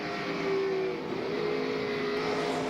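A race car engine at the 2003 Dodge/Save Mart 350 holds a steady loud drone with shifting revs as the throttle is worked, close and continuous with no talk.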